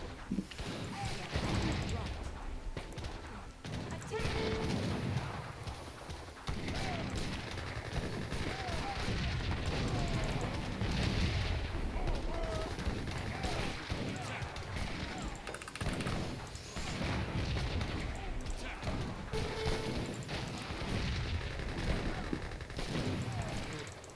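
Rapid gunfire from Gatling guns in the real-time strategy game Age of Empires III, a dense, sustained battle din with overlapping bursts and scattered hoofbeat-like clatter running continuously, with no talk.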